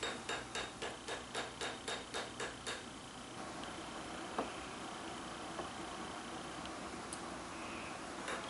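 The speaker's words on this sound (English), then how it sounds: "I then finish off the end of the handle by hammering it out into a wedge shape." About a dozen rapid, evenly spaced metallic hammer strikes ring out as a rebar knife handle is hammered into a wedge, then give way to a steady background hiss with a few faint clinks.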